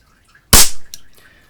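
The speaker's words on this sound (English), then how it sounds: "That's a good number of shots out of just one CO2 cartridge." A Shakespeare Acro 1 CO2 air gun with a 50-year-old synthetic seal fires a single sharp crack that decays quickly, followed by a faint metallic click in an otherwise quiet room.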